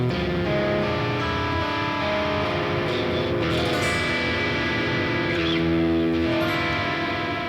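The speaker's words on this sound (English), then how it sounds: "we get a dominant flat 9 sound" A dominant flat 9 chord drawn from the Phrygian Dominant scale rings out as a sustained, dense, reverberant tone with a few soft overlapping changes, no voices.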